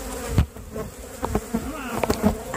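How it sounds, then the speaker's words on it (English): Bees buzzing close to the microphone, a steady droning hum with sharp louder passes as insects fly near, from a bee maze setup. "I have like bees buzzing in my ear."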